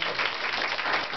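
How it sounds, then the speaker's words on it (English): Brief burst of applause at a SummerWorks ceremony in Mattapan, a dense steady wash of clapping from an audience, fairly near and filling the whole short moment with no talk over it. "Give her a round of applause."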